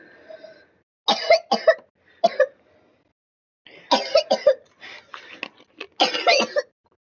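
A person coughs in several harsh bursts, with pauses between two clusters, close and fairly loud.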